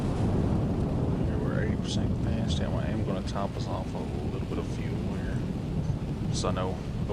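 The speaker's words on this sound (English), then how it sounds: "Yeah, it's raining." Rain and thunder in Flight Simulator 2024 at a Memphis airport, a steady loud broadband wash of rain throughout with low rumbling, while a voice talks intermittently over it.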